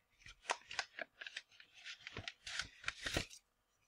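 Paper envelope torn and handled at close range, a quick run of crisp ripping and rustling bursts with brief gaps between them and no voices.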